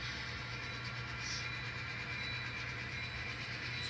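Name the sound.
N scale model train locomotive engines running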